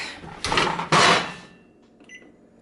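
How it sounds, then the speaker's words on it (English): A baking tray slid onto the middle rack of a kitchen oven: two close, loud metallic clatters in quick succession as the tray goes in, followed by quiet room noise. "Put this in the oven"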